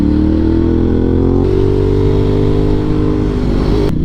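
Ducati Hypermotard motorcycle engine holding a steady, loud drone while riding, with the pitch dipping slightly partway through and wind rushing steadily throughout.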